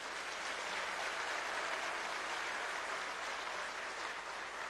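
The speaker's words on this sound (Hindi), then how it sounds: "ताली नहीं बजेगा?" Steady, dense clapping from a convocation audience honoring gold medal students, loud and continuous throughout without any voices over it.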